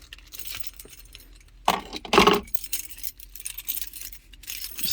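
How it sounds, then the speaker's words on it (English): Car keys jangle and clink in a short burst of metallic chiming as they are handled near the ignition of a car, close and clear against a quiet interior background. "first you need to put the keys in"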